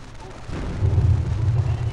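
A deep, rumbling boom swells after a brief pause and rolls on heavily, like distant artillery fire in the game Company of Heroes.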